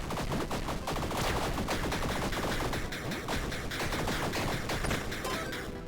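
A Gatling gun fires nonstop in the video game Tiny Rogues, a dense, rapid, unbroken stream of gunshots at steady high loudness for the whole stretch, with no voice over it.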